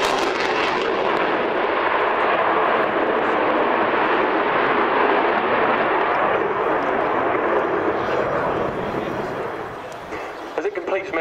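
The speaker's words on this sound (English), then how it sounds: "this is a huge aircraft, and it is flying at typical fast jet speeds of between 350 and 450 knots" A large Sukhoi Su-27 Flanker fighter jet flies a display at an air show, its engine roar loud and continuous, a broad rushing blast that holds steady before fading slightly near the end.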